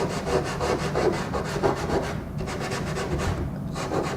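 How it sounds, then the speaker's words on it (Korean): Rhythmic scraping strokes of sandpaper rubbing back and forth across a painted surface on an artwork, close and steady with no talking. "질감의 효과를 내기 위해서 이 사포라는 재료를 사용하는데요"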